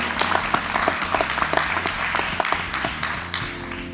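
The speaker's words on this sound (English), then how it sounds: "you lovely ladies deserve a round of applause" Audience applause for volunteers at a live state senate debate event, a steady burst of many hands clapping, moderately loud and fading slightly toward the end.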